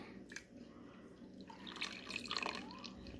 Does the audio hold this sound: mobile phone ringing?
no